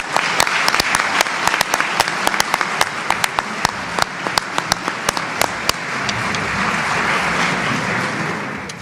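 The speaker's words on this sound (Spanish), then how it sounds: "Lo acogemos con este aplauso." Audience at a lecture on gender ideology applauds to welcome the speaker, with sharp, close individual claps over a steady bed of crowd clapping that thins toward the end.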